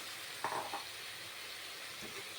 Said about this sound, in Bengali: এখন সবগুলো উপকরণকে একটু ভেজে নেব মশলাগুলো একটু ভাজা হয়েছে